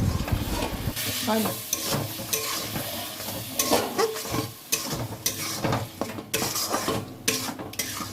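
A spoon stirs and scrapes through spice paste with added water in a pan, cooking vegetable khichuri, while it sizzles and fries steadily, with frequent clinks of metal against the pan.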